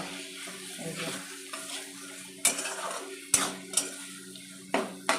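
Chicken mince being sautéed in a pan with spices, a steady low sizzle under repeated scraping and knocking of a spatula against the pan, several sharper clacks toward the end.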